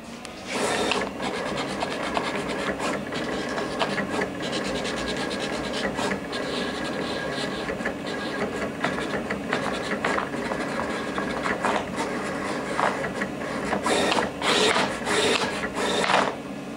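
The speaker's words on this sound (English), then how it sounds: "press Output and it will cut out our sticker" A Roland GX-24 vinyl knife cutter cuts out a sticker, giving a steady scratchy, rubbing mechanical whir with irregular bursts of louder blade and carriage movement throughout, close and continuous.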